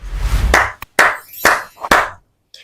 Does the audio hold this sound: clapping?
yes